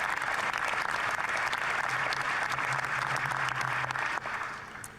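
Steady applause from a crowd reacting to a 2022 Canadian federal budget announcement, loud and continuous for about four seconds before thinning out, with a faint low hum beneath.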